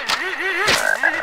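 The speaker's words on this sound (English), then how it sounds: "Oh, they squished that poor little froggo." A frog croaks briefly in the 3D Ultra Radio Control Racers video game. The short croaking chirps sit under a speaking voice and light game sounds in a clip barely over a second long.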